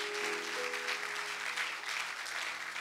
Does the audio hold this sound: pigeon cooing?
no